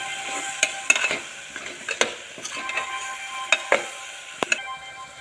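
A spoon stirs spices and red chilli powder through hot oil in a frying pan for spiced rice, giving soft scraping strokes and occasional sharp metal clicks over a faint steady sizzle.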